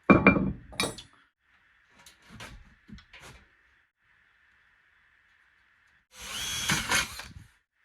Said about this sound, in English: So you just drill a hole, same size as your little thing that goes into your damper here.